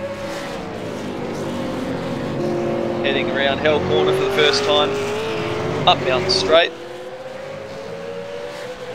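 A V8 Supercar on a hot lap around Mount Panorama at Bathurst drones loudly and continuously, its engine note climbing with revs under a commentator's voice before cutting off sharply.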